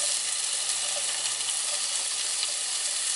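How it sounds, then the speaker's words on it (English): Onions fry in olive oil in a pan during RV cooking, giving a steady, close, dense sizzle that holds evenly throughout with no voices. "Start with the oil, get your onions in,"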